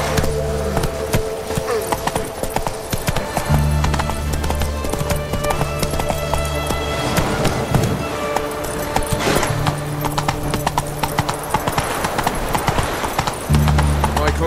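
Roach the horse in The Witcher 3 gallops with rapid rhythmic hoofbeats, steady and close, while a droning music bed plays and a voice briefly speaks.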